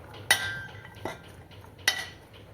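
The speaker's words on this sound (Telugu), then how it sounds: "ఇలా మొత్తం యాడ్ చేసుకున్న తర్వాత ఒకసారి మొత్తం మిక్స్ చేసుకోవాలి, పైనుంచి కింది వరకు మొత్తం కలిసేటట్టు" Spoon clinking against a bowl in three sharp strikes while boiled chickpeas and peanuts are mixed, close and fairly quiet, with soft scraping between clinks.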